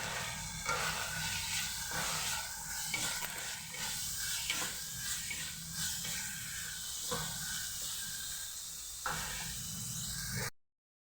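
Peas and carrots sautéing in a pan on a lowered flame give off a steady sizzle and hiss, with periodic scraping stirs at close range before the sound cuts off abruptly.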